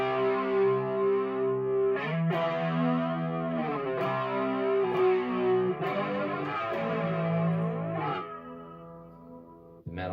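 An electric guitar played through a Fender Mustang amp on its Supersonic preamp settings, giving a distorted, effects-laden tone with chorus and echo; sustained chords and notes ring close and loud in a steady phrase, with no talking.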